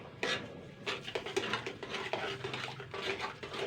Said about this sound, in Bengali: এবার একটুখানি নাড়াচাড়া করে নেব